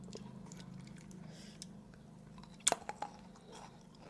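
Crunchy pickled grapes bitten and chewed close up, a sharp crisp crunch followed by a few quieter crunching chews against a low steady background hum.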